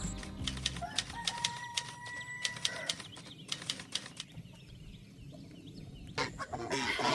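Chickens on a farm cluck and peck nearby, a busy run of short sharp clucks and rustling with a flurry of wing flapping, fairly faint and without talk.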